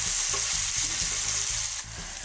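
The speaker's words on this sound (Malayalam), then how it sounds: "ആ ഒരു ഇഞ്ചിയുടെ വെളുത്തുള്ളിയുടെയും പച്ചമണം മാറുന്ന വരെ നന്നായി തന്നെ ഒന്ന് ഇതിൽ ഇളക്കി കൊടുക്കുക." Ginger-garlic paste frying in a pan while being stirred, giving a steady loud sizzle with a rhythmic scraping of the spoon through it, close up and with no talk.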